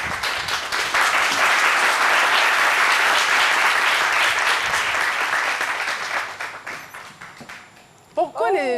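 A studio audience on a French midday show gives loud, sustained applause that gradually thins and fades toward the end, and then a voice speaks briefly just as the clapping dies away.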